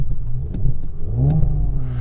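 A 2017 Audi S4 3.0 TFSI quattro V6 in dynamic mode gives a close, deep burbling rumble, rising briefly in pitch as the revs climb, then settling into a throaty idle.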